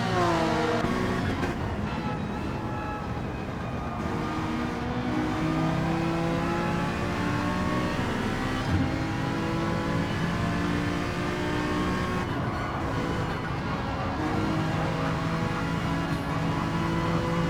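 Racing engines from British Touring Car replica cars in Gran Turismo 7 roar continuously and loudly, several cars revving and shifting through banking toward a hard braking zone and hairpin, with layered overlapping engine notes.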